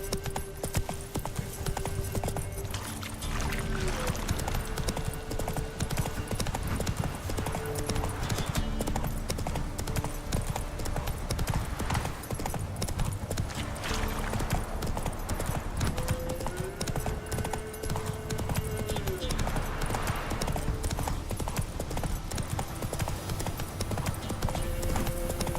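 Roach the horse gallops in The Witcher 3, a steady rapid clip-clop of hooves running continuously, with game music and ambience underneath.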